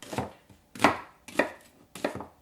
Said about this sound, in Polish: Kroimy cebulę.